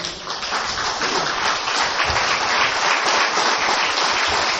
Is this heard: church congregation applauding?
yes